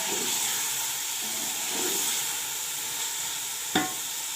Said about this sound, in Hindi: इसको अच्छी तरह मिक्स करते हैं